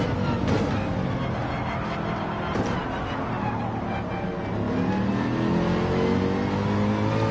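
Race car engine in Gran Turismo 7 at Daytona, running steady and loud at high revs with rising and falling pitch through gear changes, one continuous drone with no pauses.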